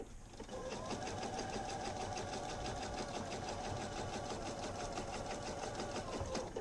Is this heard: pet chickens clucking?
no